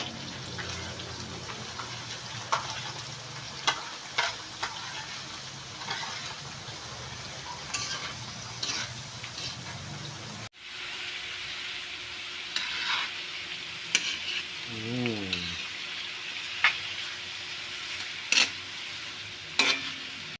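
Onions and vegetables fry in a pan with a soft, continuous sizzle, broken by stirring scrapes and clinks; midway a brief dropout comes before the sizzle resumes, faint and close.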